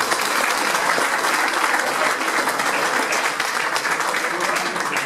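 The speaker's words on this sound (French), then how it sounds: "On va l'applaudir très fort." A crowd at an outdoor food festival event applauds loudly and steadily, a dense continuous wash of clapping with a murmur of voices underneath.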